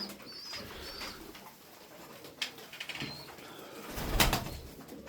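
Ankara milk-white pigeons coo softly and flap their wings nearby, with bursts of wingbeats and a louder flurry near the end over a quiet background.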